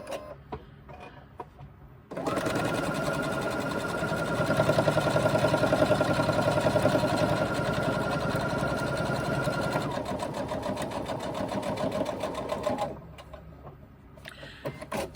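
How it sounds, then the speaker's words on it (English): A sewing machine top-stitches the pieces of a crossbody bag in one long, steady, loud run lasting about ten seconds, with quiet handling noise before and after. "now that they've been pressed, we can top stitch them together"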